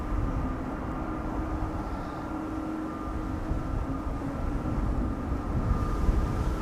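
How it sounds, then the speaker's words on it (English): An Air Baltic Bombardier A220-300 airliner departs Schiphol on a windy day, a steady, moderately distant jet rumble with a faint sustained whine above it. "This is Air Baltic flight 962 to Vilnius. Bombardier C Series 300 A220, 2 years old, first flight September 2021."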